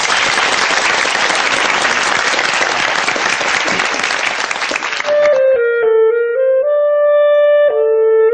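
Audience applause fills a hall for about five seconds, dense and loud, then fades as a clarinet begins playing a sustained melody from the Oldboy soundtrack.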